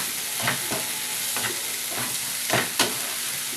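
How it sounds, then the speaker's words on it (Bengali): Spices stir-fry in hot oil for a Chinese-style egg and oats curry, giving a steady close sizzle with several scraping stirs of a spatula against the pan. "মশলাগুলোকে ভালো করে কষিয়ে নিতে হবে।"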